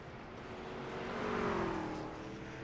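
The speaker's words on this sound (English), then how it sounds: "you can hear the RPMs actually increase as you go over the crest" A NASCAR truck engine in the iRacing video game at Lime Rock, with its RPMs audibly climbing in pitch as it crests a hill. The steady droning whine swells to a peak and then eases slightly.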